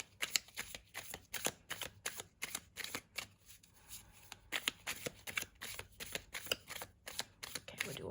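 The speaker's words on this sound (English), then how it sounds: "One last shuffle here, Aquarius." Crisp riffling bursts of a tarot deck being shuffled, repeated in quick rhythmic sequences, close and clear with no talking.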